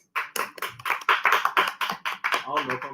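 A small audience claps in a quick, steady run of sharp hand claps to welcome an interview guest of Make a Chess Move at Hope Tank, close and fairly loud, with voices underneath.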